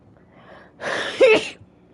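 A single sharp human sneeze bursts out close and loud after a soft intake of breath, then fades quickly into a quiet room.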